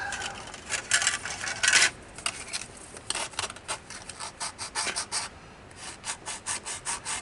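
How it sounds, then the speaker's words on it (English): Short rasping strokes of sanding on small plastic parts of a Revell Ventura bomber model kit, repeated in uneven bursts up close, with light clicks between them. "Right now, things need a little sanding."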